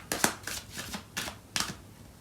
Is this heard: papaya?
no